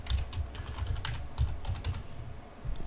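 Keys clatter on a computer keyboard as an administrator password is typed during a Windows domain controller setup, a quick irregular run of close clicks and taps.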